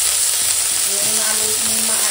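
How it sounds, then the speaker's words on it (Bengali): Neem leaves fry in a little hot oil, giving a dense, steady sizzle close up with no talking. "নিম পাতাটা ভাজা করে নিচ্ছি, আগে তেল দিয়ে ভাজা করে দিচ্ছি"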